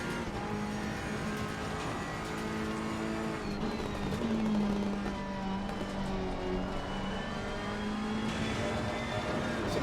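Sustained race car engine in the Assetto Corsa Competizione racing game at Brands Hatch, chasing a McLaren; a steady, loud, close drone with rising and falling pitch as revs change, with no talk over it.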